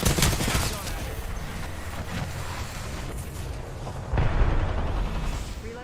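Rapid video game gunfire rattles as a dense, continuous roar of shots, with a loud burst at the start and another surge of fire around the middle. No voices are heard.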